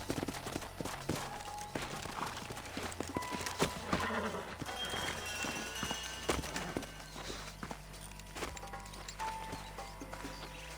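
Horses in Red Dead Redemption clip-clop and shuffle on the ground at close range, with occasional snorts, over a low outdoor ambience. No one speaks.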